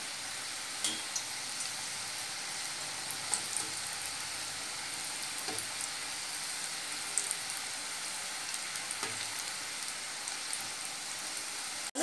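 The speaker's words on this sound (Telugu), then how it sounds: "వీటిని స్లోగా పెట్టి వేగిస్తే మనకి సమోసాలు చాలా క్రిస్పీగాను టేస్టీగాను వస్తాయి" Palak sweetcorn samosas frying slowly in hot oil, a steady bright crackling sizzle with occasional louder pops, continuous and close throughout.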